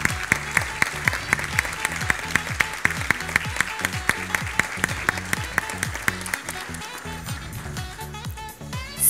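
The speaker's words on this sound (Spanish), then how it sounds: "Y un fuerte aplauso para Carmela." A crowd applauds a graduating kindergartener at the ceremony, with dense, continuous clapping and rapid repeated claps that hold steady for several seconds before thinning slightly toward the end.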